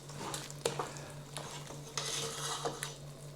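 Three cans of tomatoes being stirred into a peanut chicken curry mix in a pot, with faint scraping and several sharp spoon clinks against the metal over a low steady hum.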